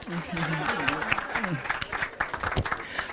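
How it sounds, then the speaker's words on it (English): Applause from an audience at a city council partnership event, steady clapping running throughout at moderate level with voices talking over it. "Please put your hands together for"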